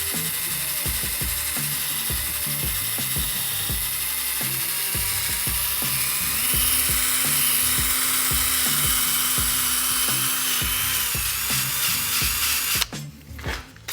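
A drill spins a 500 grit sanding disc against a plastic car headlight, a steady close whirring drone with rapid rhythmic ticking from the pad, ending abruptly near the end.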